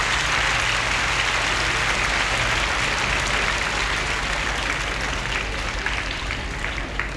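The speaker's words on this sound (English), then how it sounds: "Now give yourself a clap because you're so good." A group of children clap for themselves in a dense, steady round of applause that continues evenly throughout, with a low hum underneath.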